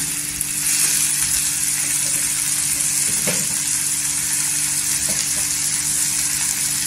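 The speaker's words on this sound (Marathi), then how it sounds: "इथे टोमॅटो आहे ना तेलावर परतून घ्यायचा" Tomatoes sauté in hot oil for a spicy tomato chutney, producing a loud, continuous close-up sizzle with faint stirring scrapes throughout.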